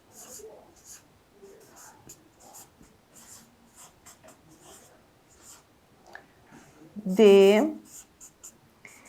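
A teacher writing on the board in a Portuguese-language first-grade classroom, with faint intermittent scratching strokes of chalk or marker, quiet whispery sounds and a brief louder voiced noise partway through.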